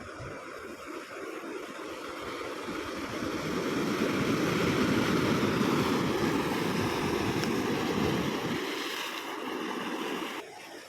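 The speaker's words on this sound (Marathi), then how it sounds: "आणि हा समुद्र" Sea waves roll in on the rocky Harihareshwar coast in Konkan, a broad steady roar that swells to a peak mid-way and then eases back.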